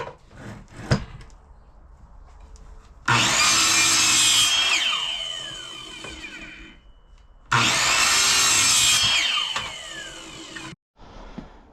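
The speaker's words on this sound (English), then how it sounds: "Yes, I'm sawing on the floor" Two long bursts of hand sawing through a wooden dowel on a floor, close and loud, with steady rasping back-and-forth strokes separated by a short pause and a few knocks.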